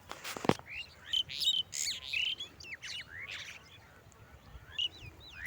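Winter birds, among them egrets, call around the listener with scattered high chirps and short tweets over a faint outdoor background, opening with one sharp close sound, with the calls coming and going.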